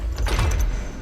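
A door unlocking mechanism in the video game Hogwarts Legacy, a short mechanical clunk and sliding rumble lasting about a second, close and fairly loud with a low thud.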